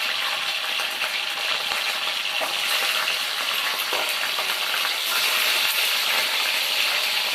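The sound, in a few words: green chilies and fenugreek frying for fish curry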